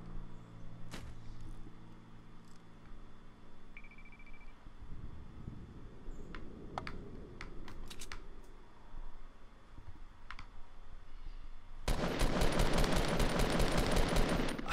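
Gunfire in the video game Fortnite: scattered single shots and clicks, then a rapid, dense burst of automatic fire near the end, fairly quiet overall against a low game background.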